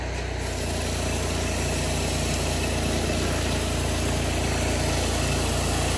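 An 8 GPM pressure washing machine hooked to a 31-inch Mini Mondo surface cleaner runs loud and steady, a constant engine drone with a slight rise at the start and no voices.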